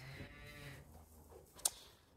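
Cattle lowing inside a barn during calving season, a single faint moo with soft harmonic rumble, followed by a brief sharp clank or knock, amid quiet barn ambience.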